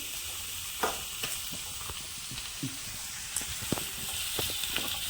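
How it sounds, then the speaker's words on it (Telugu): Onions and tomato pieces sizzle and fry in a pan for a tomato curry, a steady hiss broken by scattered light stirring clicks and pops, close and moderately quiet with no talking. "చక్కగా ఇప్పుడు ఒక 5 నిమిషాల పాటు మనం దీన్ని వేగనిస్తున్నామండి"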